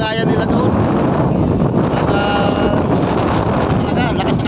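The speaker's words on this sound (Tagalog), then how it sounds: "Talaga lakas ng hangin." Strong wind buffets the microphone without a break on a boat rescue scene, a loud roaring rumble that fills the whole stretch, with voices speaking under it.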